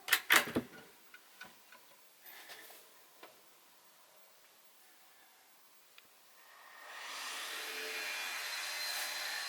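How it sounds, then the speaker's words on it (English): Campervan cabinetry being built in a nearby workshop: a few sharp taps and clicks at first, then quiet, then a steady machine whir rising and holding toward the end, somewhat distant. "As you can hear, they are making the cabinetry, which will be installed in here."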